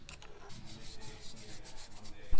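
Hand scraping and rubbing paint off the painted timing cover plates of a Mitsubishi 3000GT VR4 6G72 twin-turbo engine, a steady close gritty rasping that runs throughout with a sharper knock at the end.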